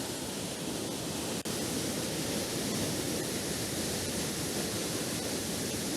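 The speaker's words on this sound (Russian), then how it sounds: "Какой водопад." A waterfall near Mersin roars as a steady, dense wash of rushing water, loud and continuous throughout with no break in the spray and no voices.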